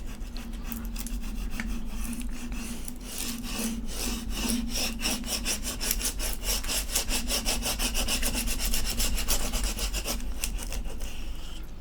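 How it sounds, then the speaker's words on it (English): A squeegee tool is dragged over vinyl laid on a liquid pour painting, giving a steady close-up scraping and rubbing texture with rapid repeated strokes throughout, growing slightly denser toward the end. "we go over it with what I call the squeegee tool. Get down there, you want it to all pull off."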